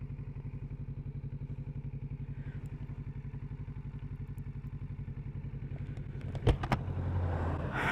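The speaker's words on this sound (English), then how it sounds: "oncoming busy traffic like this" A Kawasaki Z650RS motorcycle idles with a steady rhythmic thrum close by on a busy road, then a sharp clack and rising engine revs as passing traffic noise swells toward the end.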